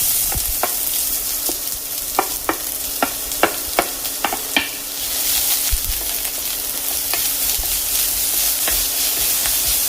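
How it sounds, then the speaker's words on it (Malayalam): Onions fry in coconut oil with popped mustard seeds, a steady loud sizzle broken early on by a run of sharp pops and spoon taps that then settles into a continuous hiss. "കടുക് പൊട്ടിയതിലേക്ക് സവാള ചേർക്കാം."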